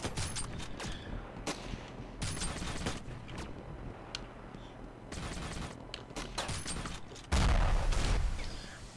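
Allied soldiers in the video game Ravenfield fire their guns in dense, rapid volleys that keep up steadily, with a heavy, loud blast near the end.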